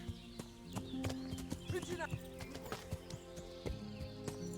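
Horse hooves clip-clopping on a path in the medieval game Kingdom Come: Deliverance, a steady close trotting rhythm with a brief whinny and a player talking over it.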